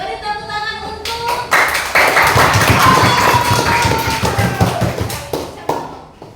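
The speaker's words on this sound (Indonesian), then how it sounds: "Beri tepuk tangan untuk" A primary school class claps for a group of children, with scattered uneven hand claps and taps close by, some thuds, and an adult voice speaking over the clapping.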